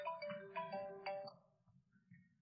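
A phone ringtone plays a bright, melodic electronic tune of several quick notes, moderately faint and trailing off into quiet with a soft low hum beneath.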